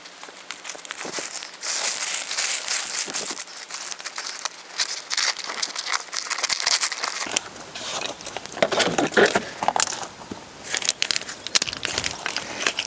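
Landscape fabric being laid and cut while planting lily bulbs in a garden bed: close, continuous crinkling and rustling with irregular scratchy bursts, swelling and easing as the sheet is handled, with no talking.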